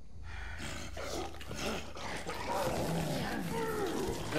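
A werewolf roars and snarls in the video game The Order: 1886, a loud, sustained growling roar layered over tense game ambience and music.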